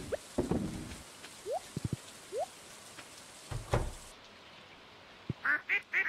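Ducks quack in the farming video game Stardew Valley, with a few short, fairly faint quacks and chirpy calls scattered over a soft patter of rain and small clicks, no voices.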